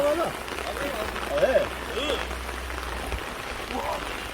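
Steady rain patters on a surface at a valley campsite on a windy day while a voice speaks quietly in short bursts over the hiss.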